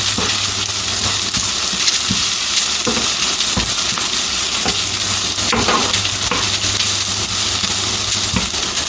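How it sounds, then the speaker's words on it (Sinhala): A salmon curry mixture sizzles loudly in a frying pan while it is stirred, with steady frying hiss under irregular scraping strokes, close up and with no one talking. "පොඩ්ඩක් කලවම් කරගන්න."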